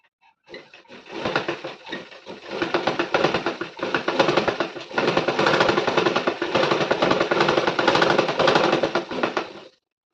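A sewing machine stitches a side seam on fabric for mini underwear, running in a fast, continuous mechanical rattle for about nine seconds with brief uneven stretches, loud and close, with no talk.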